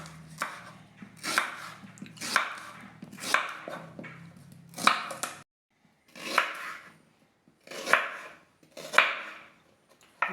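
A knife chopping unripe plantain in short crunchy strokes, about eight separate cuts at a steady, unhurried pace with brief pauses between them, close and clear.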